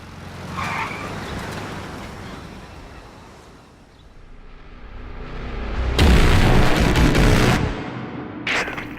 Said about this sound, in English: Where'd you learn to ramp a car like that?